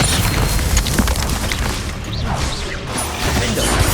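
A Descendo slam spell in Hogwarts Legacy lands with a heavy booming crash. Dense, loud impact noise and rumble continue steadily for several seconds of chaotic combat.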